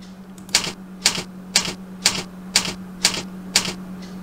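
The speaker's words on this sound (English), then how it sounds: "you apply typewriter sound effect" Typewriter key strikes in a PowerPoint animation, seven crisp, evenly spaced clacks about half a second apart over a low steady hum.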